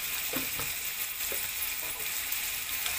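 Tomatoes with salt frying in a pan, a steady bright sizzle lasting throughout, with a few soft scrapes of stirring near the start, close and moderately loud with no talking.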